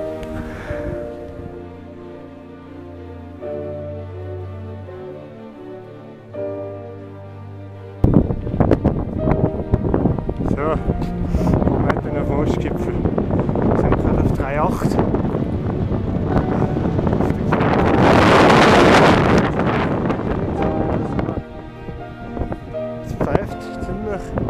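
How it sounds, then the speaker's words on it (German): Strong wind blows into the microphone outdoors, a loud rumbling buffeting that kicks in after a quieter opening and gusts unevenly, peaking in a hissing burst, with people talking through it. "Wenn wir kurz checken, dass es so windig ist."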